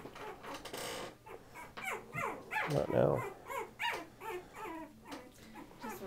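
A Patterdale Terrier puppy about two and a half weeks old whimpers and squeals in repeated high, wavering cries, close by over a soft background, and a person briefly speaks.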